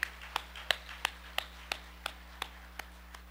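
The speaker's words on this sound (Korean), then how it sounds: "깨닫는 분 하나님께 박수로 영광 돌리시오." Clapping during a Korean church worship service: about ten sharp claps in a steady, even rhythm, moderately close, tapering off slightly toward the end.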